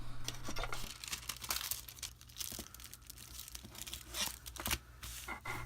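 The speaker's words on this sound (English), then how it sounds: "I'm wrapping it in some wax paper" Wax paper crinkling and crumpling as it is wrapped around a clay-rolling board, a run of close, sharp rustles and crackles with a steady low hum beneath and no talking.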